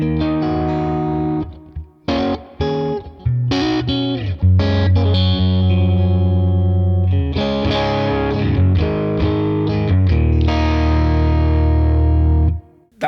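Electric guitar played through a Neural DSP Tone King Imperial MKII amp plugin, loud chords and single notes with a thick low end, ringing sustain and short pauses between phrases.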